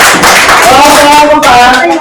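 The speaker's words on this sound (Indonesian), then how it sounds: "beri tepuk tangan teman kita" A group of students clapping together in a classroom, steady and fairly loud, with voices rising over the applause.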